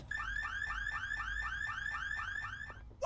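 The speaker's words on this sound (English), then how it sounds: "the car alarm's not in the habit of going off by itself" A car alarm blares in the point-and-click adventure game The Mystery of the Druids, a loud, steady cycle of rising electronic whoops repeating about every quarter second for three seconds, with no one speaking.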